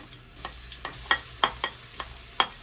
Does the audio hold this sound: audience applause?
no